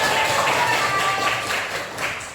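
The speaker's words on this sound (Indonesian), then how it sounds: "beri tepuk tangan yang meriah" A class of pupils bursts into loud, dense applause at the end of an Indonesian-language lesson. The clapping holds steady and then thins out slightly toward the end.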